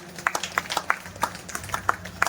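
Scattered clapping from an audience at a Ram Katha religious gathering, a short burst of separate sharp claps at moderate volume with no talking.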